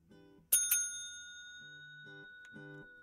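A bright metallic service bell from the Hotel Business Simulator game strikes twice in quick succession and rings out, between soft low game tones that come and go.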